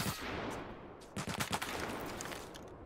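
A shotgun firing in the video game Lost Light, a sharp cluster of loud close shots in quick succession amid constant gameplay noise.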